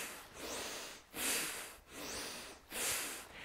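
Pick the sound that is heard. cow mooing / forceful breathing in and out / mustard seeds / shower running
forceful breathing in and out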